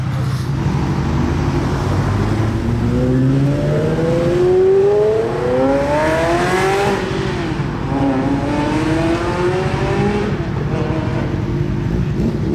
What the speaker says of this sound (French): Départ du nouveau Range SVR. Ah, il voulait rien savoir, il est parti direct à fond.